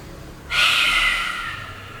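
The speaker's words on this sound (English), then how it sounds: "Take an inhale through your nose, open your mouth, stick out your tongue and let it go. It's a big loud breath." A lion's breath in a vinyasa yoga flow: one big, loud, forceful exhale through an open mouth with the tongue out, starting abruptly after a brief quiet and fading over about a second and a half, close and alone.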